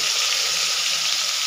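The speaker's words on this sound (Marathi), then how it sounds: "आता हे अद्रक आणि लसूणची पेस्ट जरा परतून घ्यायची." Ginger and chili paste sizzling in hot oil in a pan for puri bhaji, a loud, close, continuous hissing fry with no voices.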